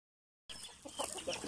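Backyard native chickens, shamo crossbreeds among them, cluck softly and at a distance after a moment of silence, with faint scattered calls over quiet outdoor ambience.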